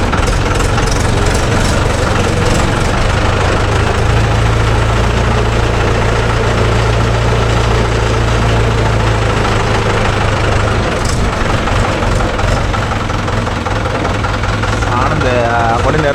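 The diesel engine of a JCB 3DX backhoe or Mahindra 575 DI tractor idles close by at a house demolition site, a steady heavy rumble with knocking throughout. Voices are heard over it.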